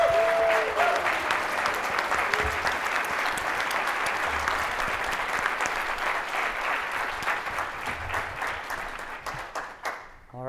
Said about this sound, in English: can I get a mini round of applause for our panel